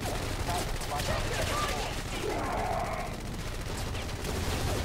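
Sustained rapid turret gunfire in the video game Hazard Ops runs loud and dense throughout, under a continuous bed of game noise, with some speech-like sound mixed in.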